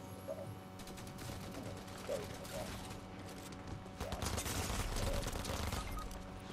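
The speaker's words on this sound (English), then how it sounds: "Auto turret." Automatic turret fire in a video game, a dense rattle of rapid gunfire running continuously under busy in-game noise and clicks, growing louder in the last couple of seconds.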